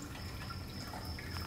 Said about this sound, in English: you can hear the oil dripping down